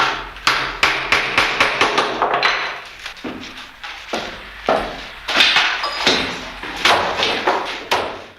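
Nails are hammered into a wicker basket's handle frame in a traditional German basket workshop: a rapid run of sharp, close metallic strikes, then bursts of blows separated by brief pauses.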